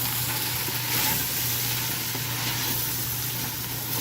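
Onions sweat and sizzle in a hot pan as a homemade chili starts, a steady, even frying hiss that holds at moderate loudness for the whole stretch, close up, with a faint low hum underneath and no talking.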